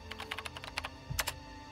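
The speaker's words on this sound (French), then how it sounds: "Un bruit de clavier" Computer keyboard typing in an apartment bedroom at night, a quick run of soft key clicks with a brief pause and then a couple of louder taps, close and alone without speech.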